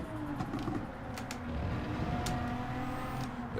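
A Nissan GT-R racing at Circuit de Spa-Francorchamps in Gran Turismo 7 gives a low, steady engine drone with faint shifting tones, quiet and continuous for the whole moment.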